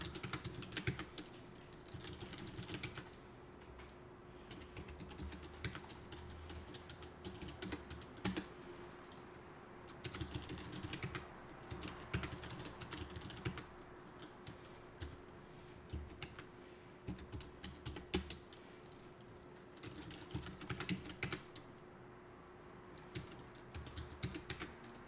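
Steady typing on a computer keyboard while entering data into an Excel spreadsheet, with close, irregular clusters of key clicks and occasional heavier keystrokes running throughout and no talking.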